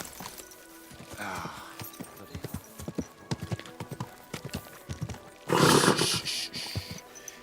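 Horse hooves clip-clop in a steady walking rhythm in Kingdom Come Deliverance 2, ending in a loud, close neigh near the end.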